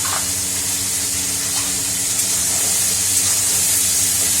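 Spices fry in a pan with ginger, garlic and tomato, giving a loud, constant sizzling hiss that stays steady and close, with no voices over it.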